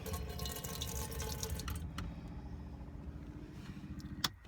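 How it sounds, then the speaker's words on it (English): Water pump in a 1996 Ford Transit Nu Venture Sorrento diesel camper running as fresh water pours into the kitchen sink, a steady rushing flow with a low motor hum, then a sharp click near the end. "Put the pump on. And off we go with fresh water."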